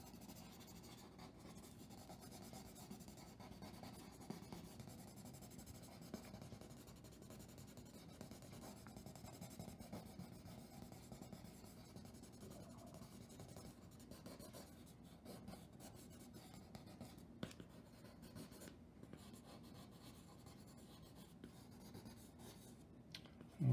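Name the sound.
pencil drawing and shading on paper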